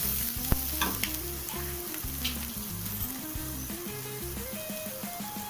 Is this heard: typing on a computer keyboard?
no